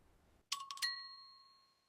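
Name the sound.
doorbell ringing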